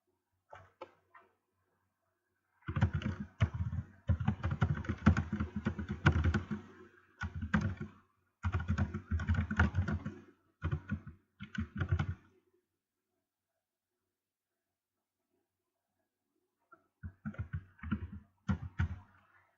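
Rapid bursts of clicking keystrokes on a computer keyboard, close and fairly loud, in several runs separated by pauses, with a long quiet gap before a final short burst of typing.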